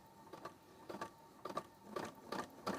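A home sewing machine running long straight gathering stitches along a vintage ruffle, no backstitching, heard as quick repeated bursts of needle clatter in a steady rhythm, close and fairly quiet, with no talking.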